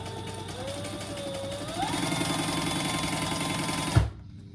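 Sewing machine basting a zipper in place on a crossbody bag: a steady close motor whir with rapid needle ticking, pitch rising slightly as it speeds up, ending in an abrupt stop with a soft thump.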